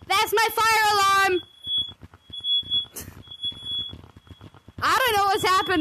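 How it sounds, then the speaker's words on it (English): A home smoke alarm keeps sounding with a piercing high-pitched beep in steady repeated pulses, heard between and under loud, strained shouting from a person nearby. "Sorry! That's my fire alarm!"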